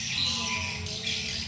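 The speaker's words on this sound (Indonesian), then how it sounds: "Elang ya, burung elang." Bird cries of an eagle, a steady squawking call with sharp high accents, fairly loud and continuous against a low background hum, no voices.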